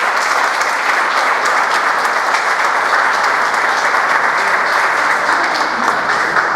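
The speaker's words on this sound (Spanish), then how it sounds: "Le damos un fuerte aplauso." A retreat audience gives a strong, sustained round of applause welcoming a priest, dense even clapping filling the room at steady loudness throughout, with no voices over it.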